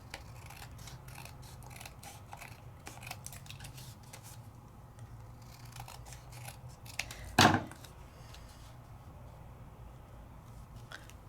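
Scissors trimming a card mat for a craft project, with a steady run of soft snipping and rubbing paper sounds, then one brief louder cut near the end, close and fairly quiet.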